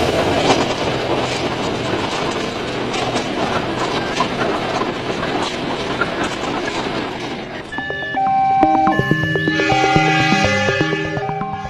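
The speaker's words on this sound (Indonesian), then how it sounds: "sebuah kereta api lagi datang dari arah berlawanan dan tiba-tiba melintas" A train rolls through a railway level crossing with rhythmic clickety-clack of wheels over the rails and rumbling cars, then loud ringing tones of the crossing bell or horn join near the end, with no talk.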